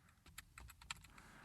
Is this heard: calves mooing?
no